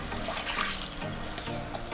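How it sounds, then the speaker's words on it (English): Water poured into a pot holding half a pack of pasta with minced meat, salt and milk, a close, steady splashing gush that runs throughout without talk. "You're going to add more water than you think you need."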